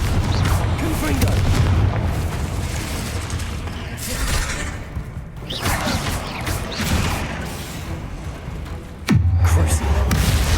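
Repeated Confringo fire-spell blasts in the video game Hogwarts Legacy: loud booms and crashing impacts over about ten seconds of steady battle din, with a sharp fresh blast near the end and a voice calling over it.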